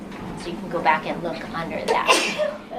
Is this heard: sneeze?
yes